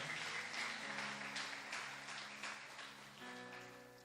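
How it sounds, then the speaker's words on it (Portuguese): A church congregation applauding during a sermon, soft, continuous clapping with sustained organ or keyboard tones underneath, fading gradually. "Você pode aplaudir a Jesus por essa palavra"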